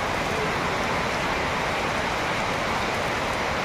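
Steady, dense hiss of rain falling continuously, with no pauses or voices, like a downpour on a surface.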